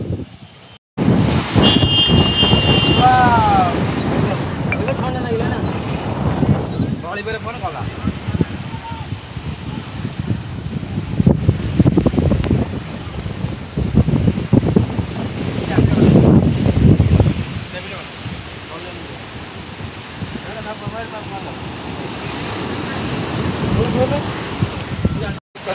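Large ocean waves roar steadily at crowded Pentha Beach in Odisha, a loud, continuous surf wash mixed with gusty wind noise on the microphone, with voices talking over it.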